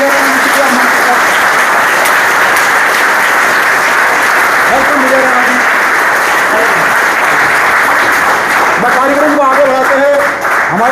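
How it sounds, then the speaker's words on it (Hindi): A crowd applauds with both hands at a public honouring ceremony for a CWE champion, a loud, steady wash of clapping lasting throughout, with voices and cheering mixed in beneath. "दोनों हाथों की ताली बजाएंगे।"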